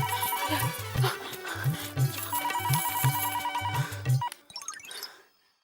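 A telephone ringtone plays a repeating electronic melody loudly for about four seconds, then stops abruptly and trails off into silence.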